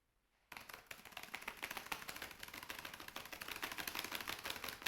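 Fast, steady keyboard typing, a dense run of close clicky keystrokes that starts abruptly after a brief quiet moment and keeps going without pause.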